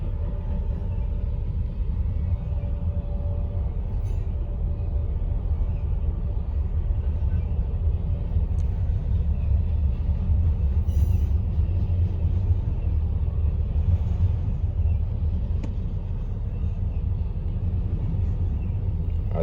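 A Norfolk Southern freight train, number 9893, rolling past: a deep, continuous rumble that stays steady and fairly close for the whole stretch, with no voices.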